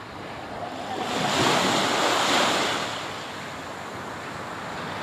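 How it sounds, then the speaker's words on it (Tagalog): Strong sea waves roll in at the beach, one surge swelling into a loud rushing crash and then easing back to a steady surf hiss, with wind buffeting the microphone. "Ayun na, malakas ang alon ma."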